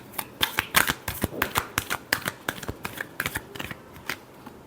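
Tarot cards are shuffled close up in a rapid series of crisp riffling flicks and slaps, irregular in rhythm and fairly soft, with no voice over them.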